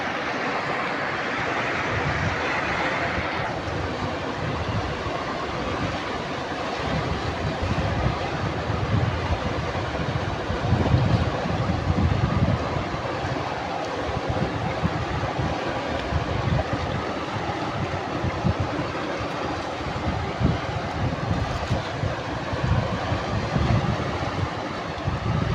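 Fast-rushing flood water roars in a dense, continuous wash with wind buffeting the microphone, loud and close, with no pause in the churning flow.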